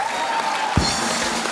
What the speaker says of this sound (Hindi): तो ताली बजाओ, बोले क्या शायरी दी है।